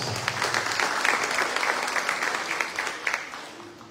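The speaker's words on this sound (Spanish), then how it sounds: "¡Fuerte las palmas!" An audience claps steadily for several seconds at a university academic-year inauguration ceremony in Chilca, Peru, a dense, even patter that slowly fades.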